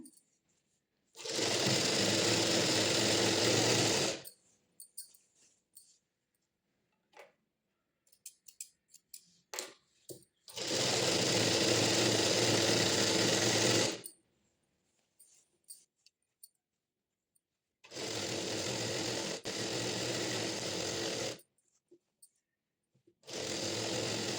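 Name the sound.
sewing machine stitching a double stitch on patiala pants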